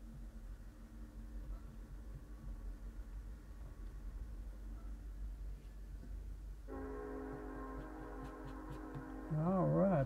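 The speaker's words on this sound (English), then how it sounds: "All right, there goes our train." A passing train sounds its horn near the end, a sustained wavering tone rising over a steady low rumble of rail noise.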